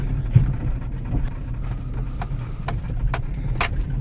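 A cheap all-wheel drive rally car bought for $20 idles and drives with a steady low engine rumble, accompanied by scattered clicks and light knocks nearby.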